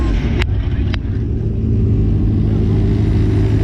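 Cars rev their engines at a crowded car meet, a steady engine drone heard from some distance with a couple of brief sharp bangs near the start.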